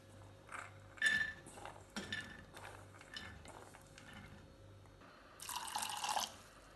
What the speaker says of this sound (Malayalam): മുങ്ങിക്കിടക്കുന്ന പാകത്തിന് വെള്ളം ഒഴിച്ചു കൊടുക്കാം